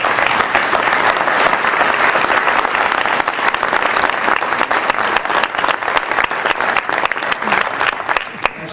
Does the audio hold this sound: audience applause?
yes